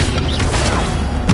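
Incendio fire spell cast in Hogwarts Legacy, a short whooshing magical burst with a thump near the end, over a dense bed of game sound.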